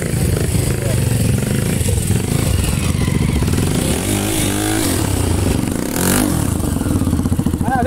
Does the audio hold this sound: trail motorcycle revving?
yes